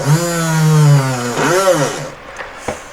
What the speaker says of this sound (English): This drill's not doing its job great.